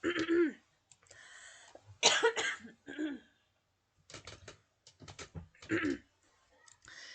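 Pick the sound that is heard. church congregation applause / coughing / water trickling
coughing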